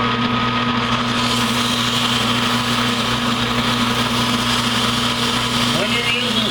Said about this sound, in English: I'm just going to take a piece of sandpaper.